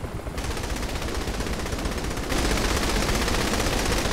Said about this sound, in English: I was shooting at her teammate.